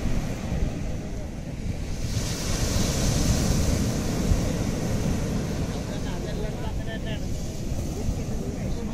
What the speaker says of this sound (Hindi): आप लोग को हम लोग समुद्र तो दिखा नहीं सकते, पर समुद्र की आप लोग आवाज फील करिए।